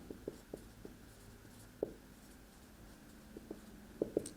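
Marker or chalk writing a for-loop structure on a board, faint intermittent taps and short strokes spaced irregularly against a quiet room hum, with no talking.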